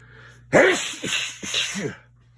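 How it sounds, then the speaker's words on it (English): A loud, forceful sneeze close by, drawn out into several harsh bursts over a faint constant hum. "That was a monster sneeze."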